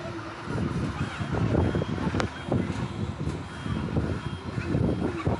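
A lorry reverses on a UK road, its reversing alarm beeping in a regular, repeating pattern under low engine rumble and wind noise, moderately distant.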